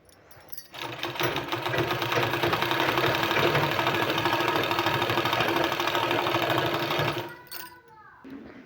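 A sewing machine stitches yellow fabric piping onto a sleeve, its motor whirring in a loud, steady, fast run for about six seconds before stopping abruptly.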